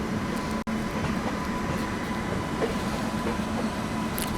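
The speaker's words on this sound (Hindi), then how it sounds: "पैरेलल ट्रेन चल रही है" A passenger train running on a parallel track, heard from inside a moving Indian sleeper-class coach as a loud, continuous rumble with steady rail clatter and faint clicks throughout.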